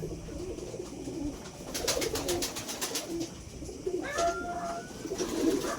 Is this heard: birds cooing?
yes